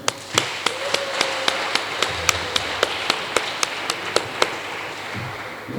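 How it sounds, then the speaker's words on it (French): Clapping at a nuptial blessing comes as a slow, regular series of sharp single claps, about a dozen evenly spaced beats, fairly faint against a quiet room. "Nous allons applaudir."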